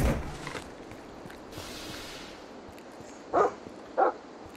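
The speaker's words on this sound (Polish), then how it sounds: "Psy jakieś szczekają." Two short, distant dog barks, about half a second apart, sound faintly over a low, steady night ambience in the video game The Final Station.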